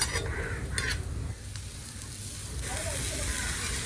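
Onion and turmeric sauté in a pan with a dense, continuous sizzle, and a few clinking stirring strokes sound near the start.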